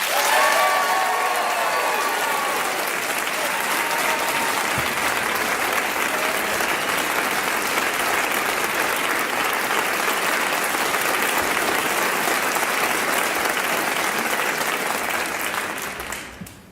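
Studio audience applause welcoming a singer onto a radio show, dense sustained clapping from a crowd lasting many seconds before fading at the end.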